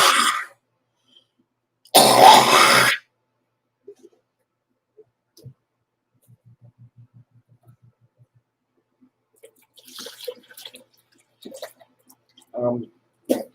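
A couple of loud, harsh coughs up close, separated by near silence, followed by faint clicks and a few soft throaty sounds.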